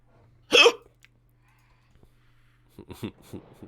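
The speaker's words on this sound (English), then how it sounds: "when people hiccups like super hard, sometimes it sounds fake" A single hard, sharp hiccup bursts out loudly near the start, followed after a pause by a short stretch of quieter voice sounds, with a faint steady hum underneath.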